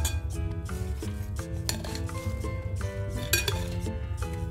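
A spoon mixes kachumbari salad of tomato, onion and avocado with lemon juice in a bowl, giving repeated light clinks and taps against the dish in an uneven rhythm.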